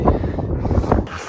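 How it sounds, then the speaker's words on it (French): Cold, fresh wind blowing outdoors in Finland during an Arctic crossing on foot, a steady close buffeting roar against the microphone with no talk. "Il y a du vent, comme vous pouvez sentir."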